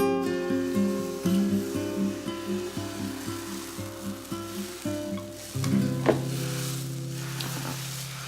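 Injera batter, half a cup, poured into a big hot pan gives a close, steady frying sizzle with a low hum and faint scraping, swelling louder near the end as the batter spreads.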